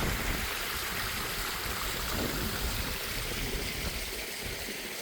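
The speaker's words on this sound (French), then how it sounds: "ce petit cours d'eau minuscule est chargé d'histoire" A tiny stream runs near a beach, giving a steady, close, even rush of trickling water with no voices.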